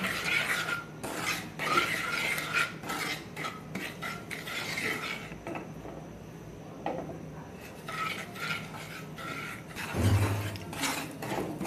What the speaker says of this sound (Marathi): कमी गॅसवर आता हे आपल्याला भाजून घ्यायचं आहे रवा